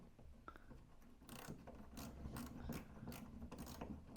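A ratchet clicks rapidly while undoing the loosely fastened rear bumper bolts on a Land Rover Freelander 2, in close, crisp bursts of pawl ticking.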